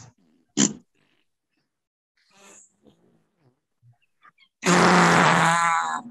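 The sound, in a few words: person imitating fart noises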